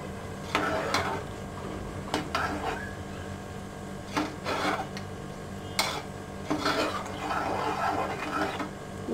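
Ingredients for a vegetable dish being stirred in a cooking pot with a spoon, repeated scraping and clinking strokes at an irregular pace over a steady background hum.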